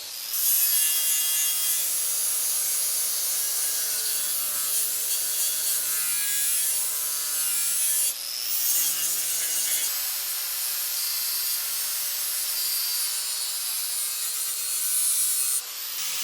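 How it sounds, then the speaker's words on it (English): A power tool grinds tail feathers into a carved wooden woodpecker, giving a steady, loud, high whine with small shifts in pitch as the bit works the wood, and no talk. "And so now I'll take and I'll grind in the tail feathers."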